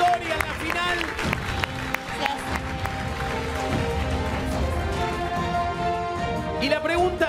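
Studio audience applause on a Spanish-language TV game show, dense continuous clapping with music and voices layered over it, loud and close throughout.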